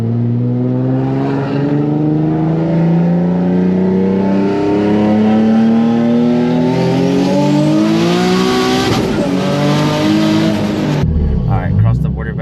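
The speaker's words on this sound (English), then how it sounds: "I'm gonna just show you guys how much it lags when I just floor it with no brake boost." A Nissan 350Z with a rear-mount turbo kit accelerating at full throttle, a loud close engine climbing steadily in pitch through the revs before backing off near the end, with a voice heard over it.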